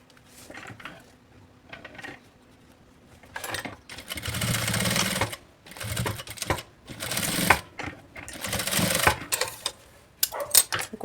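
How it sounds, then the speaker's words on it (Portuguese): A sewing machine stitches a straight seam on a backpack in bursts of rapid mechanical chatter, several runs of a second or two divided by short pauses and softer handling sounds. "eu vou passar uma costura reta pra prender"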